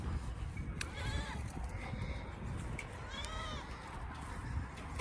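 Goats kept in a pen in a snowy winter setting give several wavering bleats, moderately close, over steady wind-like background noise with faint voices.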